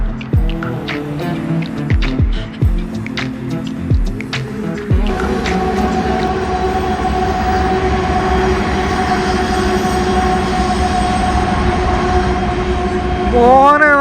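A train rolls past in the Truckee hills of California, first rhythmic clacks of wheels over rail joints, then a loud steady rumble and hum close by, ending with a rising wheel squeal.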